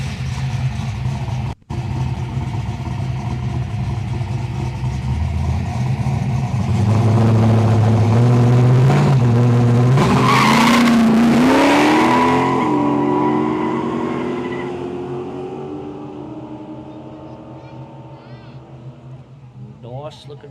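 An LH Torino and an HQ sedan GTS race side by side down a no-prep airstrip drag strip, their engines swelling to a loud, rising roar as they launch and pull away, then fading into the distance.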